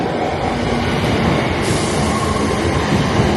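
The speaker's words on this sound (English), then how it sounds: "The train is arriving." Loud, continuous roar of a train rolling in close by, dense rumbling noise with a faint high squeal of wheels.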